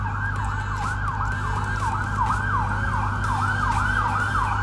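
A police siren wails in a steady repeating up-and-down sweep, loud and continuous over a constant low road rumble outside a Miami Beach botanical garden, with no talking.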